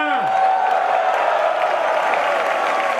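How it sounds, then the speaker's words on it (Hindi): A large crowd at an Amway Diamond celebration fills the hall with sustained applause and cheering, a dense continuous roar of clapping with a tonal sweep at the start. "आवाज दोस्तों, तालियां"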